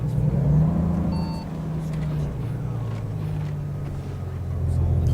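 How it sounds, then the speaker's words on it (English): Stock Volvo truck engine in American Truck Simulator, a loud continuous low diesel drone with steady harmonic hum that shifts pitch slightly as it revs, running close and dominant throughout, with faint talk now and then beneath it. "everyone always tells me my engine is so loud, but it's literally the stock in-game Volvo engine"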